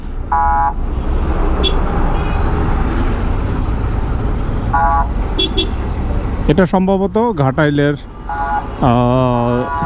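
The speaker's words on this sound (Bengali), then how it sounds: "পিছনে গাড়িটা এত অতিরিক্ত ভিআইপি হর্ন দিচ্ছে আমি বুঝতেছি না" A car behind in traffic in Ghatail, Tangail, blasts a siren-style VIP horn in several wavering, wailing bursts near the end. Steady road noise and a speaking voice run underneath, with a few shorter horn toots earlier.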